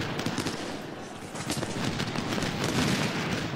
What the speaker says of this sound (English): And already some nice canister shot on Wilcox.